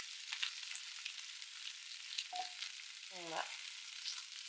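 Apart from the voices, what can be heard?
Liège meatballs frying in a pan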